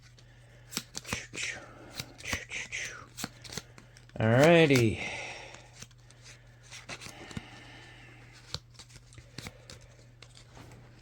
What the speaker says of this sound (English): we're going to shuffle them in to the enemy deck